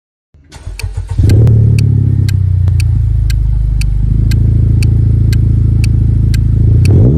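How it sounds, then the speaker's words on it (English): Acura Integra Type S engine starting up, then holding a loud, steady high-revving roar up close, with a brief dip midway before the revs pick up again. "Hear that aggressive high-revving roar. It's the Acura Integra Type S."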